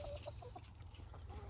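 An Americana hen on a homestead farm clucks in short, soft bursts close by, several quick calls against a low steady background hum.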